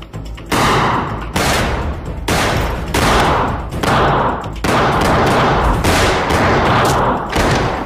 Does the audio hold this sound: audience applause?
no